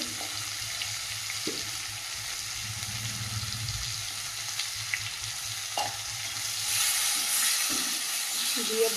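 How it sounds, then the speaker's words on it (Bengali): Tomato fries in a pan with salt and turmeric, a low steady sizzle and hiss with a few scattered clicks of a spoon, the frying swelling slightly louder toward the end. "ভালো করে ভেজে নেব টমেটোটা"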